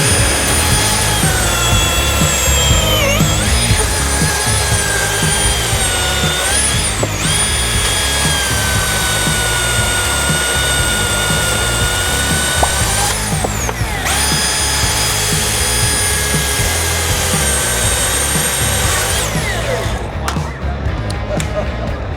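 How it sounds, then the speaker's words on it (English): Milwaukee battery-powered chainsaw at a trade show, its high-pitched motor whine running loud and sustained, rising and dipping across several long cuts with brief pauses between them, with talk underneath. "you get an absolute world beater of a chainsaw here"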